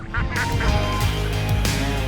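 A flock of ducks quacks loudly and continuously while being herded through the countryside in central Java, with dense, overlapping calls filling the whole stretch.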